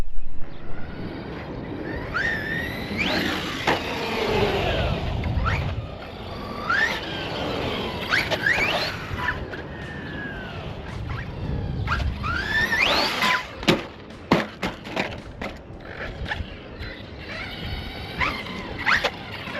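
A Team Associated MT8 RC monster truck drives hard, its electric motor whining up and down in rising and falling sweeps, with clattering knocks and impacts toward the end, fairly close.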